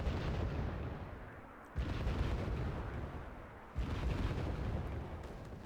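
Heavy gunfire and artillery booms from the strategy game Wargame Red Dragon rumble as a dense, continuous barrage, with two sharp surges of blasts about two seconds apart, and no talking over it.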